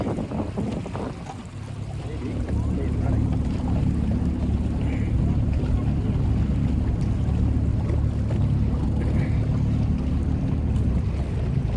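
A 1969 Glasspar Tacoma 14 motorboat doing power runs drones steadily over rushing water and heavy wind buffeting the microphone, loud and continuous throughout.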